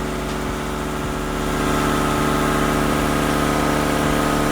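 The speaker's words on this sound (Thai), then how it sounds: "ที่ดังๆเนี่ยคืออย่างที่ผมบอกนะมอเตอร์มันเป็นมอเตอร์รอบเร็วนะครับ" A small high-speed motor of a solar-powered greenhouse misting system hums steadily and loudly, with a constant whine and buzzing vibration that grows slightly stronger partway through; no voices.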